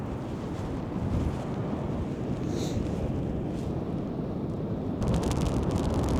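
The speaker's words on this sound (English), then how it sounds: "It's raining sideways and quite windy." Rain driven by strong wind on a stormy coast during crab fishing, a continuous heavy low rumble of gusts buffeting the microphone with rain hiss on top, loud and close throughout and growing rougher near the end.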